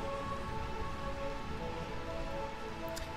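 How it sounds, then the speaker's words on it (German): Steady, dense rain falls over Burmecia, the realm of endless rain in the video game Final Fantasy IX, a constant even wash of drops with a low rumbling undertone and no gaps. "Burmesia, Reich des ewigen Regens."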